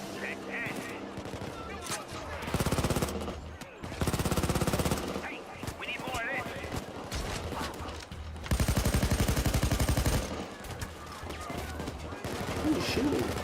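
Bursts of automatic gunfire in Payday 2 Crimewave Edition, loud rapid rattling volleys in several separated runs, with players talking between and over them.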